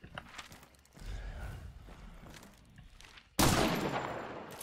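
A bold gunshot in Hunt: Showdown, a sudden loud crack near the end following quieter shuffling and movement noises, ringing out sharply and close.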